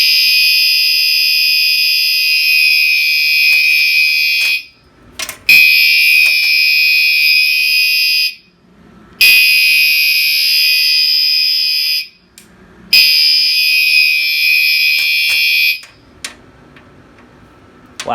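An S46 fire alarm sounds loud and continuous in three long blasts, each about four seconds, separated by brief gaps, with a fourth blast starting before the sound stops near the end.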